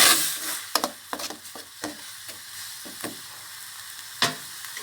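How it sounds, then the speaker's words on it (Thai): Red curry paste stir-fried with water instead of oil for a Thai jungle curry with pork, a hissing sizzle broken by a series of sharp spatula scrapes against the pan at irregular intervals, close and loud, no speech. "ผัดพริกแกงกับน้ำให้หอม"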